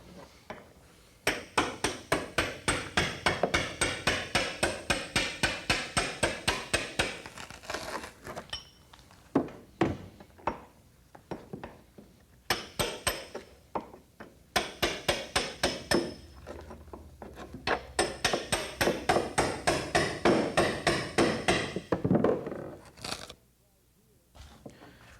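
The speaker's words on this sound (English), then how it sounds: "The more you can do with a hammer and chisel and break off pieces" A hammer and chisel chip fiberglass on a Corvette quarter panel: repeated rapid sharp strikes in bursts, metallic chipping taps with short pauses between runs, fairly close and loud.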